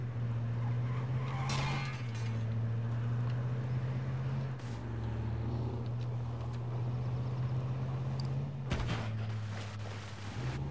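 A car driven in the video game H1Z1 holds a loud, steady engine drone throughout, with bursts of skidding tire noise near the start and again close to the end.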